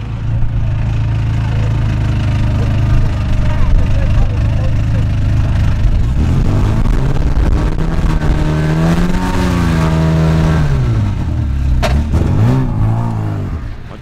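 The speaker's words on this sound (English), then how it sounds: "the noise of the exhaust. Here, check this." Race car exhaust at Thruxton Race Circuit, revved for a trackside noise check: loud, close engine roar holding steady, then several rising and falling revs toward the end.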